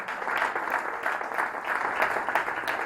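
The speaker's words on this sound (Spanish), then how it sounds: "Le damos un aplauso a aquel que lo hizo, que lo hace y que lo hará." A church congregation applauds in praise during a Spanish-language sermon, the clapping steady and moderately loud throughout with no voice over it.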